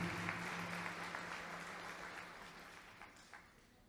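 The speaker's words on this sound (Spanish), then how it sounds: "Denle un aplauso a la palabra de Dios." Congregation applause inside a church after a sermon reading, a steady wash of many hands clapping that gradually thins and fades over several seconds, moderately distant.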